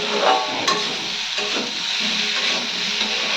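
Potatoes frying in a pan for a jackfruit and potato dish, giving a steady, close hiss and sizzle with faint stirring scrapes and no talking.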